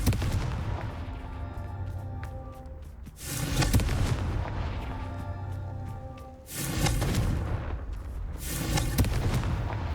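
Fire spells burst in the Hogwarts Legacy video game, two heavy booming blasts with rumbling crackle over a steady low game soundtrack, loud and close.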